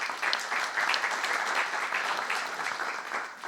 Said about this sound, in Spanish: Bienvenido, José, un aplauso